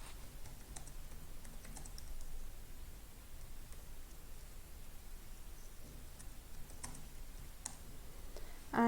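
Typing on a computer keyboard produces quiet, close key clicks in an irregular patter over faint background hiss, with no talking.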